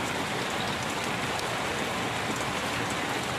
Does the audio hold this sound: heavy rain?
yes